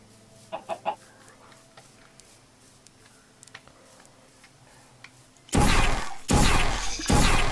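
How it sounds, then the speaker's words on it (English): Minecraft chickens give a few short, quiet clucks early on, followed by a stretch of near-quiet game ambience, then a loud burst of harsh noise at the end. "Or chickens."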